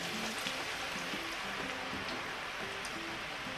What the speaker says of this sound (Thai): เมื่อน้ำมันร้อนได้ที่แล้วนิ่งแล้ว เราก็หยิบ เส้นมัน ที่เราหั่นเรียบร้อยใส่ลงไปค่ะ